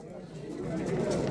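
Pigeons cooing at a busy pigeon market in Andijan, a low continuous murmur of coos and bird noise with crowd chatter mixed in, steady and moderately close.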